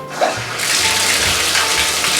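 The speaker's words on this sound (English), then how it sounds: "So what we're gonna do now is run a warm bath." A bathtub fills with warm water from the tap. A steady, loud gushing rush follows a brief click and continues without pause.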